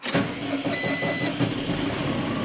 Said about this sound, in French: J'espère que le tracteur va démarrer et qu'on n'a pas vidé la batterie.